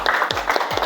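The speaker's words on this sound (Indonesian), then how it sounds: "tepuk tangan dulu untuk kita semua" A group of students gives a short burst of applause in a classroom, several quick rhythmic claps close by.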